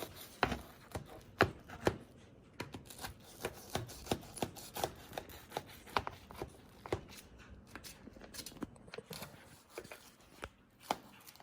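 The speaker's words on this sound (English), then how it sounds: "I am chopping it into 3 pieces each row." A knife chops a pizza cake into pieces on a board, a string of sharp, fairly regular knocks up close, moderately quiet, with no one talking.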